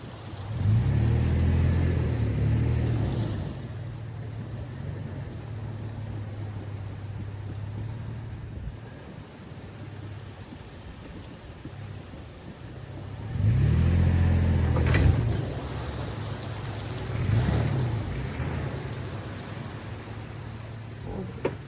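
An off-road vehicle on a fall mountain trail ride revs its engine in two low, rumbling surges, one at the start and one near the middle, as it tugs on a kinetic recovery rope, with steady outdoor noise in between.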